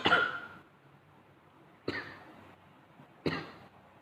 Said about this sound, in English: Coughing's still here